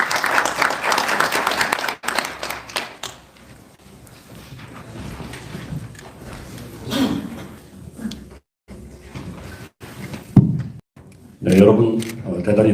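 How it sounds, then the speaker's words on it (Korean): Applause welcoming a speaker at a policy seminar in a National Assembly conference hall, loud clapping at the start that fades, with talk and room sounds following and another brief burst near the end. "여러분 큰 박수로 맞이해 주시기 바랍니다."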